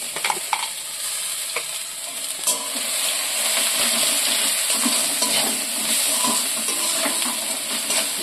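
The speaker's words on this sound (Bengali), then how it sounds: "কড়ার মধ্যে ভালো করে এটাকে আমি নেড়ে চেড়ে একটু শুকিয়ে নেব" Ground lentil paste mixed with green peas is stirred and fried in a wok, a continuous close sizzle and scraping that grows slightly louder midway, with occasional light utensil taps.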